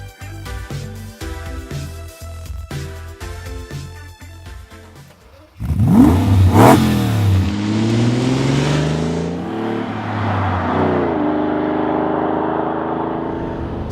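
Lamborghini Countach with a 5.2-liter V12, four valves per cylinder, first heard as a rhythmic lumpy idle, then a loud sudden rev that climbs and holds a strong roar before settling into a steady drone, with no talking.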